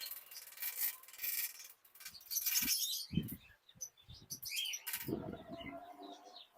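Birds in a pet shop flap their wings in short, close bursts, with light chirps and scuffling between the flurries.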